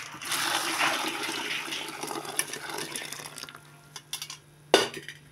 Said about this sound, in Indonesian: oke air sudah mendidih siap kita siramkan guys ya